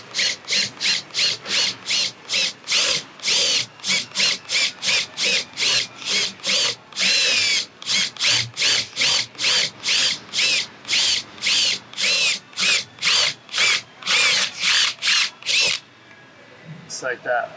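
A power drill bores through a camper panel in many short repeated bursts, each a few beats apart, loud and close, ending in a brief quiet.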